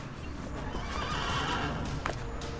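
A horse neighs in Assassin's Creed Brotherhood Remastered on PS5, a loud whinny over busy game noise and hoof clatter.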